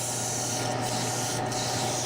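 Sandpaper rubs against a spinning wooden bowl on a woodturning lathe, working through fine grits such as 220 and 400, giving a continuous close, even rasping hiss with no voices.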